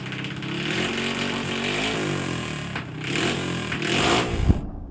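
Racing pump boat engine used in bangkarera, a loud continuous mid-pitched drone with shifting revs and a rise in intensity toward the end before cutting off.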